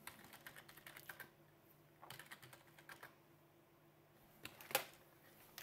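Quiet bursts of typing on a computer keyboard while setting up a home automation platform, with clusters of soft key clicks separated by pauses and one sharper tap near the end. The keys are close but faint, with no talking.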